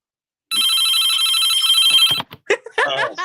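Telephone ringing loudly in a steady, unbroken burst for nearly two seconds, then cut off as a voice begins talking on a live wrestling podcast.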